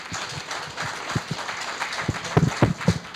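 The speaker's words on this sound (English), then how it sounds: "I think we should give at least a big applause for that." Audience applause at an investors conference in Dubai, a scattered patter of clapping in a hall that thickens toward the end, moderately distant.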